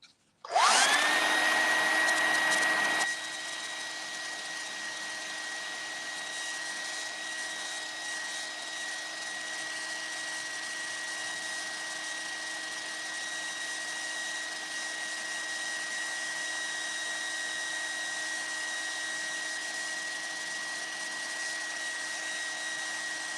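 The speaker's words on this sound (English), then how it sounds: "I'm gonna dry this off again so I can paint." Hair dryer blowing over a painting, switched on abruptly with a loud whooshing start, then a steady high-pitched motor whine and airflow rush that holds evenly, close by with no talking.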